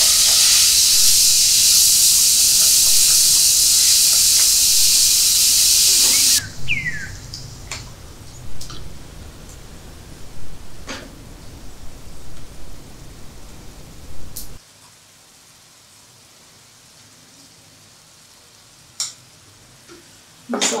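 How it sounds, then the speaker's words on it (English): Onion paste with cumin and cardamom sizzles and fries in butter and a little oil, a loud steady hiss at first that settles into softer crackling with occasional stirring scrapes, then fades to near quiet. "Onion, jeera and elachi is getting sauteed in butter and little oil."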